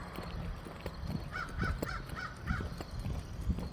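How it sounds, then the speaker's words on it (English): Several crows caw in a quick series of harsh, repeated calls at moderate distance during an outdoor walk, over a steady low background rumble. "Well, the crows are noisy."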